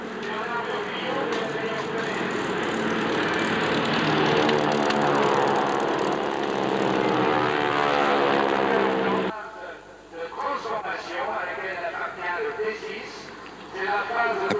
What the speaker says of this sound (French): les T6 ma foi c'est bien connu. Oui c'est bien connu, mais avec leur bruit, avec leurs grandes ailes